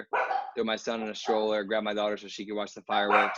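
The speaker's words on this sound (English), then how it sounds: "Sorry about the dogs" Household dogs barking in a house, sharp yapping bursts mixed in and partly masked by a person talking continuously close by.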